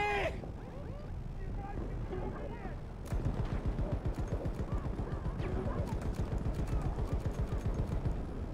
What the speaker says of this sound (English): It's shooting at the guy climbing.